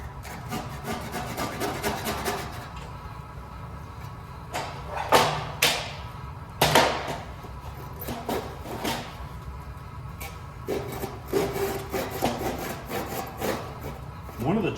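A hand saw with aggressive teeth cuts through wood in repeated rasping strokes, steady at first and then in scattered bursts with a few louder thuds, close by and fairly quiet.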